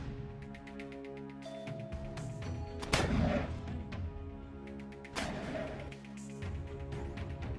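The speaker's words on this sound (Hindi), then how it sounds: "कुछ लड़ाके एक पेड़ के पीछे छिपकर लगातार रॉकेट फायर करते हुए नजर आ रहे हैं" Militants fire rockets from behind a tree: two heavy, booming launch blasts ring out several seconds apart over a steady tonal background, each with a rushing roar that trails off.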